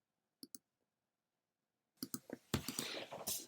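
Computer mouse clicking OK in GoToMeeting: a quick double click up close in a quiet room, followed by a faster run of sharp clicks and some clatter.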